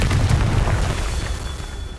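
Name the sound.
spell explosion from video game Hogwarts Legacy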